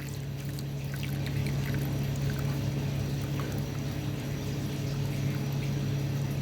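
Water poured steadily into a tadpole tank to top it up, a continuous close liquid pour with a low steady hum underneath and no talking.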